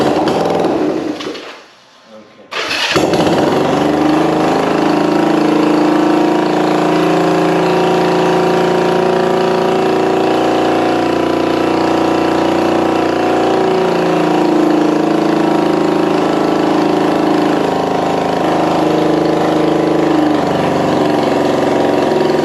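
A vintage motorcycle engine, coils and points still uncleaned, runs at a steady, loud idle with a continuous mechanical drone after a brief dip near the start; no talking over it.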